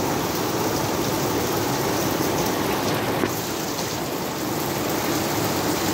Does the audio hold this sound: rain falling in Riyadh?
yes